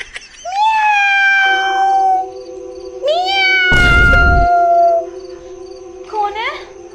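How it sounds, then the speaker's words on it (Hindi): A cat meows loudly and repeatedly in long, wavering, drawn-out cries, close by, with a sudden noisy thump in the middle and a steady hum underneath. "बिल्ली आएगी यहाँ पे, म्याऊं म्याऊं कर रही है"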